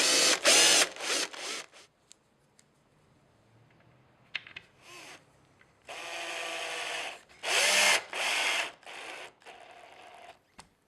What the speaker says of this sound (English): Use the indents on the back of the panel as guides for drilling pilot holes for the buttons.